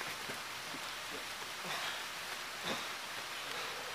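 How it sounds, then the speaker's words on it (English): Rain falls steadily on an outdoor wrestling ring, a soft even patter with occasional louder drops, while voices are faintly audible underneath. "It is raining out here, as you can hear."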